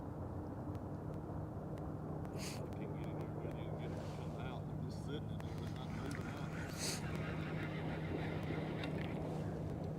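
A Skeeter bass boat's outboard motor drones as it passes on the water, a steady broad rumble under light wind. Voices talk over it.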